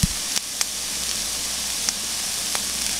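Chopped onions frying over low heat in a pan, giving a steady soft sizzle and hiss throughout with a few faint clicks of stirring, close and alone with no voices.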